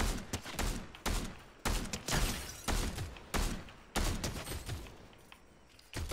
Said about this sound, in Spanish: No, pero sentí otros disparos.